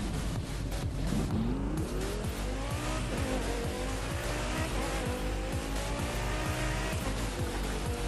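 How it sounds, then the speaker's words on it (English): Car drifting in The Crew 2 racing game, viewed in first person: a sustained engine roar with rising revs and a long tire squeal sliding through the turn, loud and continuous throughout. "I'm drifting"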